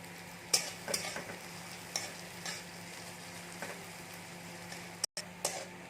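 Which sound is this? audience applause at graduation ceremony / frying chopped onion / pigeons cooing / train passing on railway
frying chopped onion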